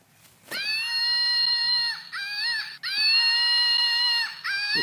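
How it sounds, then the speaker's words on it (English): Shrill, wavering shrieks from a Screaming Monkey toy ring out close and loud in long bursts with short gaps, with no one talking over them. "it's the Screaming Monkey."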